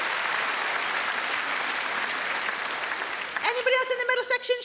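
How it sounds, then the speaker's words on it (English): Comedy club audience bursts into sustained, dense applause for a man in the crowd at a stand-up show, loud and continuous; near the end a voice starts speaking over the fading clapping. "Round of applause for the lovely fella."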